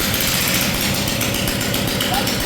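A small engine, started with the choke on, runs loud and close with a rapid, rattling, uneven chug that never lets up.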